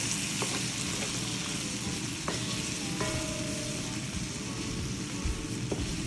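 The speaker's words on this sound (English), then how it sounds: "so I'm gonna put my vegetables in now. That. Let that fry out a little bit." Vegetables sizzle and crackle steadily in a hot pan for Jamaican brown stew chicken, a dense close frying hiss with a few sharp clicks of utensils against the pan.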